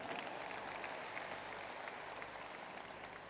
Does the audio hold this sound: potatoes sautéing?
no